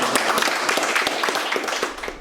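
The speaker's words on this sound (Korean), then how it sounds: "먼저 박수로 한번 다시 한번" An audience at a symposium on jobs for older people claps, with brisk, fairly loud clapping running for about two seconds and then easing off.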